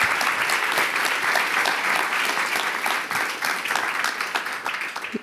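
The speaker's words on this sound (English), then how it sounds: "You don't have to applaud." Audience applause at a talk or panel event, a dense burst of steady clapping from a crowd lasting a few seconds, close and even throughout.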